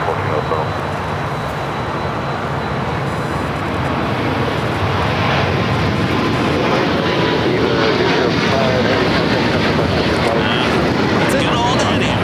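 A Boeing 767-300ER airliner at LAX, its engines giving a loud, steady roar that builds slightly and holds throughout.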